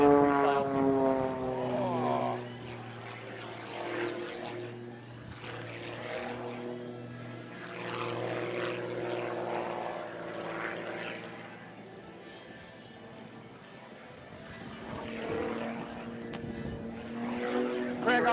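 An aerobatic propeller airplane flies a freestyle competition sequence in front of judges, its engine droning continuously with shifting pitch as it maneuvers, under steady commentary.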